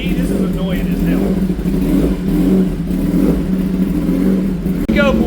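A 2024 Kawasaki ZX10 fitted with an Arrow exhaust runs on a dyno, its engine droning and rising in revs close up while someone talks over it.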